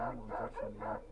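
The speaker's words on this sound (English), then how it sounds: "Who's barking? Where's the dog?" A dog barking in a short burst of three or four muffled, rhythmic woofs, somewhat faint and distant, with no talk over it.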